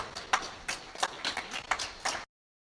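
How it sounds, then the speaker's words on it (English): Audience at a Bengaluru chapter launch event claps in scattered, uneven bursts for about two seconds, a modest round of applause heard fairly close, with no talking over it. "please join me in giving a warm round of applause to Shri Kiran Ramarao"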